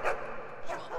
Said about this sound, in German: Ach, das ist ein Hund.